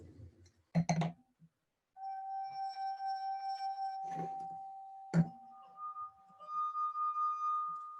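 Drinking glasses are handled, with a couple of sharp clinks and knocks alongside sustained ringing tones as the glass resonates. The glass sounds are close and moderately quiet, with brief pauses between them.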